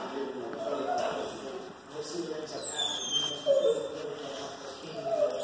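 A pitbull and a bulldog whimper and yip softly while playing, their thin high whines rising and falling over a continuous background of movement and speech-like noise, close and moderately loud.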